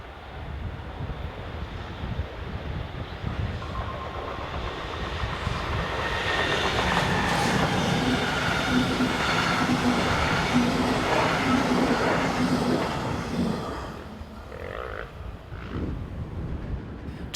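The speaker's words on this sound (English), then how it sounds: "Here it heads south with the 1136 Hannover to Göttingen service." A Metronom passenger train hauled by Bombardier locomotive 146.501 passes on the Northeim–Hannover main line heading south, a rumble building from a distance to a sustained roar, then fading away, with light wind noise.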